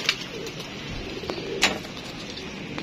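A pigeon gives a soft, low coo in a quiet space, with a couple of brief higher chirps or rustles around it.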